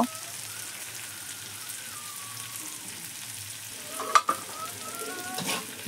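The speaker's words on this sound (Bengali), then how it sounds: "লবণ দিয়ে নেড়ে চেড়ে নিব আমি" Salted food frying in a pan is stirred, giving a steady low sizzle with a couple of sharp scraping knocks of the utensil near the four-second mark.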